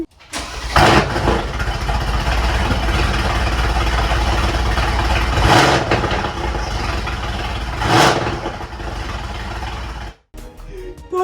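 A wrecked Mercedes AMG C63s engine cranks and fires loudly, then runs at a rough steady roar with a couple of surging bursts before cutting off abruptly near the end.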